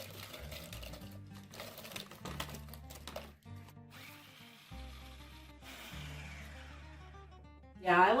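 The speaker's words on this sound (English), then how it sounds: "That's what you're gonna crush, half a bag at a time, empty it out, rinse and repeat." Pork rinds are crushed in a food processor, with several bursts of motor whirring and rattling separated by short pauses. The noise grows steadier and ends on a louder, higher whine.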